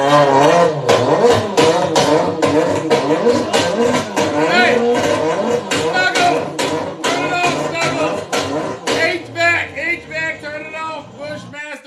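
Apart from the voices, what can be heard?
car engine backfiring and misfiring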